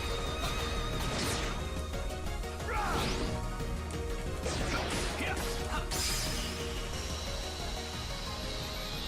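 A horse in the video game Kingdom Hearts Birth By Sleep, with loud whinnies and neighs mixed with crashing hits and swooshing effects over continuous game music.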